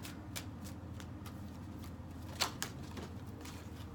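Tarot cards being shuffled by hand, a run of quick crisp riffling flicks close by, with one sharper slap as cards spill out, fairly quiet and with no talking.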